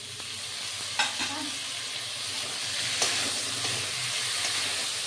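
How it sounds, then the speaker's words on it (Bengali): Potato and eggplant pieces frying in oil in a wok for pabda fish curry produce a steady, close sizzle and hiss, with a couple of brief clicks from a ladle. "হ্যাঁ, এটা আলু বেগুন দিয়ে সুন্দর করে ভাজা হবে।"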